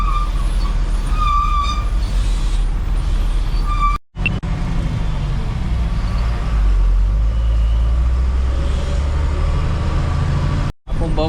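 Road traffic passes through Lonavala, with a continuous blend of car, truck and bus engines, passing vehicles and a sharp air-brake-like hiss early on. The sound is loud and close, with two brief dropouts.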